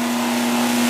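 A Power Fist 8-inch variable speed polisher buffer wheel runs at about 2000 RPM, giving a steady, loud motor whine with a strong constant hum and no other sounds.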